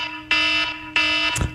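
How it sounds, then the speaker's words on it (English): Classic iPhone-style phone alarm tone, a loud, harsh ringing buzz sounding alone in two bursts about half a second apart, ending with a short thump. "I think you should use the one that's known as Alarm"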